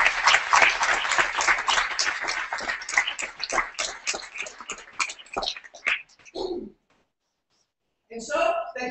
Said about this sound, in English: please we'll all give you a round of applause for your vision and all of your support for women's tennis